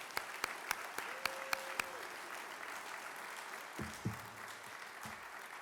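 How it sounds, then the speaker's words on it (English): An audience at a hall of fame induction ceremony applauds steadily, a sustained wash of clapping in a large room with a few sharper claps standing out near the start, fairly quiet and distant. "please, one more round of applause for all our individual inductees tonight"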